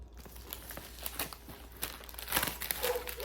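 Plant shipping packaging is handled and unwrapped up close, with soft crinkling and rustling of paper or plastic in irregular bursts and a few sharper tearing sounds, quiet and without talk.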